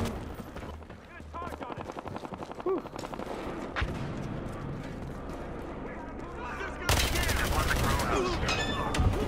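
Sustained rapid gunfire in the video game Battlefield Hardline, team deathmatch, rattles continuously, with bursts of automatic shots and heavier blasts layered over a dense, loud background.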